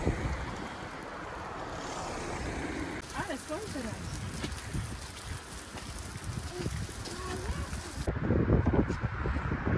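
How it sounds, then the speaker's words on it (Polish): Gusty wind buffets the microphone outdoors near a bridge in Tokaj, Hungary, a steady rushing roar with a stronger burst near the end, with faint voices underneath. "natomiast w tej chwili troszkę wieje, więc trzeba uważać"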